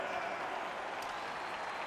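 A crowd applauds steadily through a hockey game in NHL 22, a broad, even wash of clapping and arena noise, with the Seattle home crowd cheering during play.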